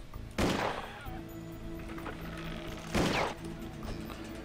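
Two separate pistol shots in the shooter Will Rock, each a loud, sharp crack with a short decaying tail, spaced about two and a half seconds apart over a low, steady background hum.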